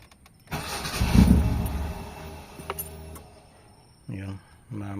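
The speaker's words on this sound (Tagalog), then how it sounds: "Yun, mamatay yung makina niya." Mitsubishi Lancer GLXi with a faulty servo cranks and fires up loudly, runs roughly for a couple of seconds and dies, then tries to restart twice in short bursts, with voices talking.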